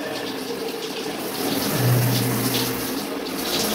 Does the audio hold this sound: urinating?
yes